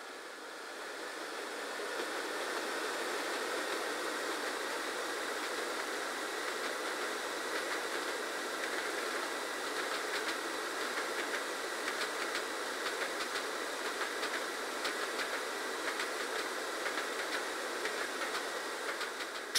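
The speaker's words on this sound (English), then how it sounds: "This Class 101 diesel mechanical multiple unit features a geared transmission" Steady rumble of a Class 101 diesel mechanical multiple unit running along the track in Train Sim World, with faint rhythmic clicking over the rails, continuous and moderately loud throughout.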